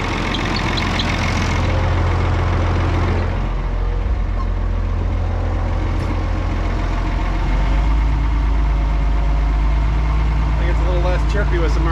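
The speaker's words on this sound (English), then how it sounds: "Chirpy with some RPMs." Tractor engine idling with a loose air conditioner belt chirping, a steady loud engine drone throughout with faint repetitive squeaks, a voice talking over it at times.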